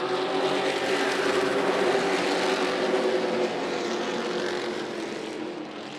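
Spears Pro Late Model stock cars roar away at the green flag of the Winter Showdown at Kern County, a dense, loud, sustained engine roar from the pack that fades slightly toward the end.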